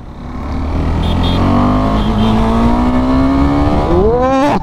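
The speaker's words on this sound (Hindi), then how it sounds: "क्या पावर है बाइक पूरी उठ रही है" A KTM motorcycle on a test ride accelerates hard, its engine note climbing steadily in pitch and loudness for several seconds before it shifts, with no talk over it.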